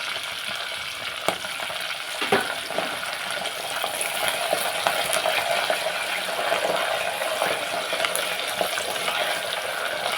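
Steady sizzle of curry leaves dropped into hot oil in a pan with chopped pieces for a fenugreek tamarind stew, a continuous close frying crackle with a few stirring scrapes and no talk.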